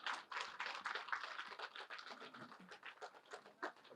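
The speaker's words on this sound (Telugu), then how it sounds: "గట్టిగా క్లాప్స్." Loud audience clapping at a pyramid anniversary event in Kakumanu, honoring the cooks who prepared the meal: a dense, steady wash of applause lasting several seconds with no voices over it.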